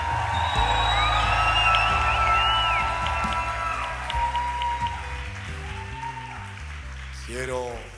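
A church congregation at a Spanish-language homily shouts and cheers in victory, a loud sustained crowd roar with whoops and applause that swells and then fades, with a voice speaking over it.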